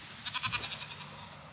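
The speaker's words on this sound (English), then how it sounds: "goes around and feeds all the goats" Goats bleating at feeding time on a farm: one close, loud bleat with a rapid quavering pulse, fading over about a second, then quiet background.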